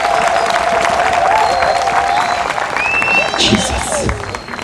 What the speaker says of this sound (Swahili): Vamos bater palma para Jesus.